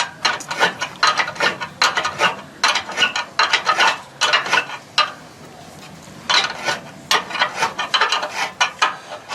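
Screws for solar panel mounts being tightened on a roof with rubber-sealed fittings, giving repeated bursts of clicking ratchet-like mechanical noise in close, steady rhythm, alone with no voices.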